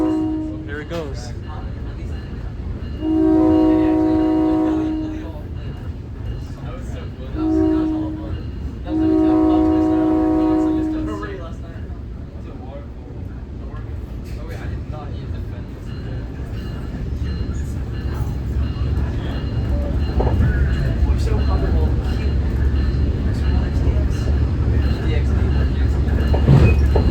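A SMART Nippon Sharyo DMU, unit 112, northbound toward Sonoma County Airport, sounds two loud sustained horn blasts and then rumbles past, the rolling noise growing heavier toward the end with some voices underneath.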